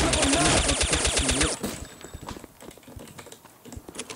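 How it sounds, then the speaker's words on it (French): Rapid automatic gunfire rattles loudly in the video game Counter-Strike: Condition Zero Deleted Scenes for about a second and a half, followed by scattered, quieter shots and clicks. "Je vais entendre des tirs, mais non, en fait, ça tire"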